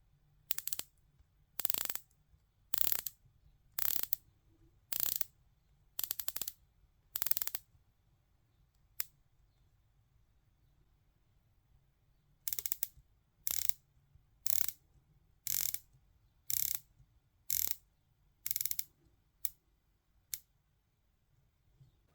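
The rotating bezels of a Tudor Pelagos 39 and a Tudor Black Bay 58 are turned in about fifteen short bursts of crisp, close ratcheting clicks, each separated by near silence, with a longer pause midway.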